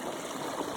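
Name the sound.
irrigation water flowing into a wheat field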